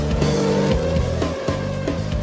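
Formula One cars roaring off the line at a race start and jostling for position into the first corner, loud engine whine with sharp gear-change dips as several cars pass close by.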